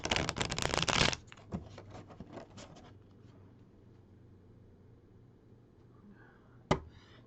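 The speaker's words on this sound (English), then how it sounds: "That's a shuffle, shuffle, shuffle, shuffle, shuffle." A deck of cards is shuffled for a card reading: a loud, quick riffle lasting about a second, then softer rustling and taps as the cards are handled, ending with one sharp snap.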